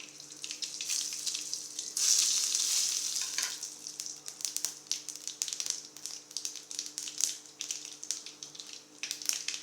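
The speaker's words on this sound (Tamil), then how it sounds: "கடுகு பொரிஞ்சிருச்சு." Mustard seeds crackle and pop in sizzling hot oil, with rapid irregular spattering bursts close by, no one speaking.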